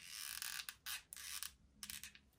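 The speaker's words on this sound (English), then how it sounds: "with my squeaky glue gun." A squeaky hot glue gun gives bursts of faint, high, ratcheting squeaks as the trigger is squeezed, close up and quiet, with no talk.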